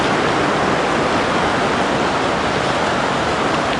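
Floodwater from a breached river rushes down a town street, a loud, unbroken roar of churning water with no pauses and no talking.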